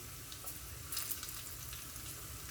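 Mustard seeds, cumin and fenugreek sizzle steadily in hot oil while tempering for dal, a dense, even crackle with a brief louder burst near the middle and no talk.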